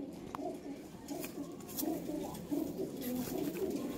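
A continuous soft burble of cooing comes from domestic breeding pigeons close at hand, the low pulses swelling slightly toward the end, with no one talking.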